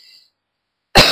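A single sharp cough bursts out near the end after a brief faint sound and a moment of silence.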